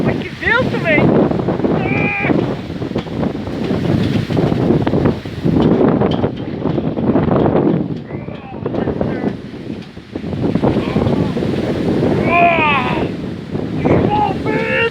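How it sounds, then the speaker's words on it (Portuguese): Gusty storm wind in Guaratinguetá buffets the microphone in loud, surging waves throughout, with excited voices speaking over the rush. "Mas que vento, velho!"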